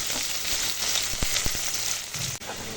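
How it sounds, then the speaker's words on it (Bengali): Onions fry in hot oil for a pomfret fish curry, giving a steady, close, continuous sizzle with a few sharp crackles and no talking. "এখন পেঁয়াজ দিয়ে দিয়ে ভেজে নেব মাছের ঝালটা রান্না হবে এবার"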